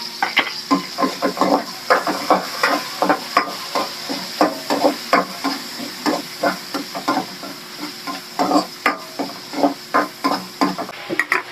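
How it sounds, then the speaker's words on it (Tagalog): Squid sautéing with garlic and onion in a pan: a steady sizzle with repeated scraping stirs, close and clear, with no voices. "Gigisa na tayo ng ating pusit."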